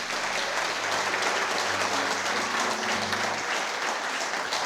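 Church congregation applauding for Jesus, a dense, steady roar of clapping filling the room without pause.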